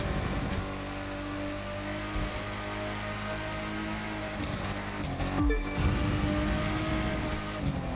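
Car in The Crew 2 racing game accelerating, a steady sustained engine drone with a rising, revving tone, loud and continuous throughout, with a brief shift in pitch partway through.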